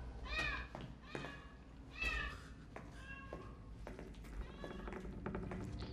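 A cat meows repeatedly in Resident Evil 7 Biohazard, giving a string of short, close cries in an uneven rhythm over low background noise.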